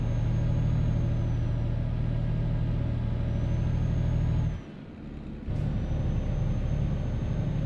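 Truck engine droning steadily at close range in Euro Truck Simulator 2, dropping briefly as a short hiss of air brakes cuts in before the engine note returns.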